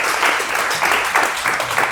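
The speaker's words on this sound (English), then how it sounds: "Yeah, clap it up, clap it up." Crowd clapping at a horror short film awards party, a broad wash of applause swelling in uneven pulses, fairly close and continuous with no clear talk.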